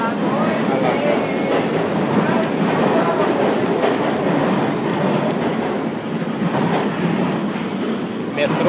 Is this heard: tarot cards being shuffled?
no